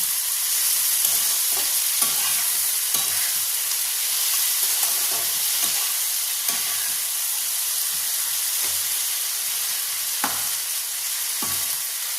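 Chopped tomatoes fry in hot oil for a chicken liver curry, giving a steady broadband sizzle with intermittent scraping stir strokes throughout, close and fairly loud, with no talking.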